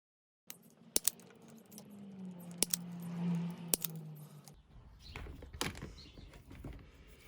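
Insulation being stripped off an electrical cable for a plug, with sharp clicks and snaps of the tool, a steady squeaky pull through the middle, then rustling and scraping handling, close and quiet with no voices.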